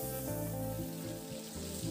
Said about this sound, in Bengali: এবার মিনিট 2-3 নাড়াচাড়া করে আলুগুলোকে বেশ লাল লাল করে একটু ভেজে নেব।